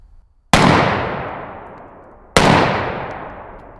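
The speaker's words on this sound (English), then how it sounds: "2 shots unsuppressed" Two unsuppressed 5.56 AR rifle shots crack loudly about two seconds apart, each a sharp blast followed by a long decaying ring.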